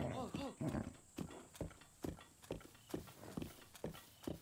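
Steady clip-clopping of a horse's hooves in Breath of the Wild, evenly spaced thuds repeating throughout, with a voice talking over the first second.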